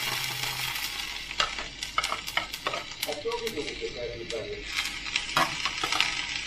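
Tomato puree fries in a pan with a steady sizzle, while a utensil scrapes and stirs in repeated short strokes close by.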